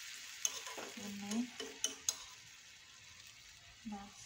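Vegetables and potatoes cooking in a pan after the water has boiled off, with a quiet sizzle and several scraping stirs and light utensil taps against the pan.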